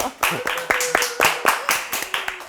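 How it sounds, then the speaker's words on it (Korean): A small group claps for the winner of a stock trading competition during an interview, giving distinct, fairly close claps in an uneven rhythm while people speak and laugh over them. "여러 박수 한번"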